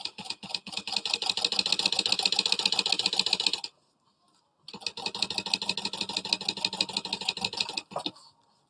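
A sewing machine stitching a zip-around wallet runs in two steady, rapid bursts of buzzing, rhythmic stitching, separated by a brief pause. It is close and loud, with no talking.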